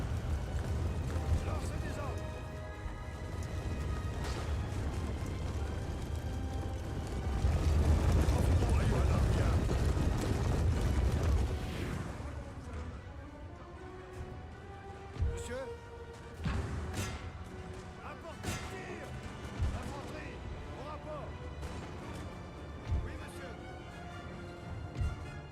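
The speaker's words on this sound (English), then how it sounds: "There we go, the cannon, indeed." Cannon artillery fire on a Napoleon: Total War battlefield in Egypt, heard as a heavy, sustained roar of booming volleys followed by scattered distant thuds and pops over the background din of battle.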